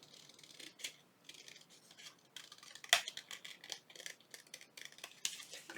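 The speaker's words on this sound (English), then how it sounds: "I'm going to cut this out. So let's get this cut out." Scissors snip through paper, cutting out a small pocket for a junk journal loaded envelope: a close, quiet run of crisp cuts and rustles with one sharper snip partway through.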